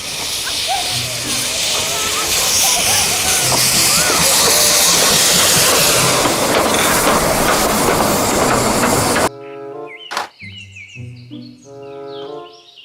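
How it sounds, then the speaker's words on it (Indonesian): A Thomas toy train runs on rails with a loud, steady rumbling clatter and hiss for most of the stretch, then cuts to brief toy-like tonal sounds near the end. "Kereta Thomas."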